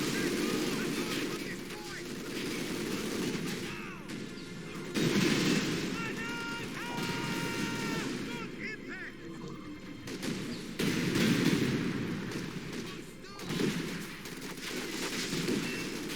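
Gunfire aimed at a tank in the Company of Heroes strategy game with a modern warfare mod, heard as dense, continuous crackling volleys and bursts at moderate level, shifting in intensity throughout.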